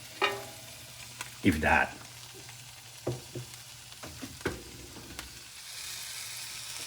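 Food cooks in a pan for surf and turf, giving a quiet, steady sizzle. Occasional clatters and stirring knocks sound up close, and a brief spoken word comes in once.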